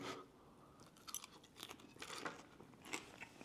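Crispy peppered chicken is crunched in the mouth up close, with irregular crisp bites and chewing crackles rising and fading, quiet, with no talk.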